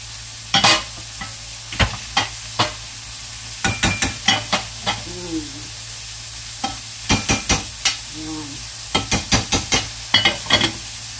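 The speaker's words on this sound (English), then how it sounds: "Got that rice back there. Stir it." Jasmine rice being stirred in a pot, a spoon scraping and knocking in repeated bursts of short strokes with a faint sizzle underneath, close and fairly loud with no talk.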